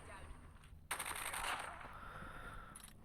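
Automatic gunfire in a Call of Duty Mobile battle royale match bursts in suddenly after a quiet moment, a sustained rattle of shots from mid distance that holds steady for about two seconds and then tapers under ambient game noise.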